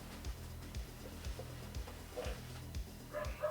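Distant, muffled dog barks repeat at a steady rhythm, about two per second, quiet throughout.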